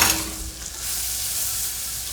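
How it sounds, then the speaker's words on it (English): Tikka Masala curry spice being stirred into a beef stew in a pot, a steady close scraping and sizzling that runs the whole time with no talk. "and stir it up"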